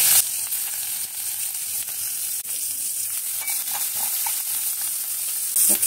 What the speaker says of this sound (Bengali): এই যে পটল ভাজা তেলের মধ্যে একটু পেঁয়াজ দিচ্ছি